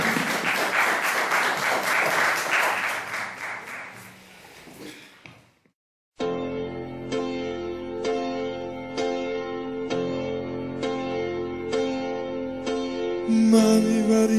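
An audience at the Italian music show Uniti nella Musica applauds a singer with loud, dense clapping that fades out after about five seconds, then after a brief silence music begins.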